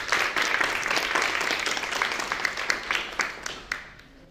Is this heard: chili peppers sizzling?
no